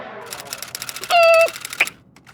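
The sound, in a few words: voice imitating a typewriter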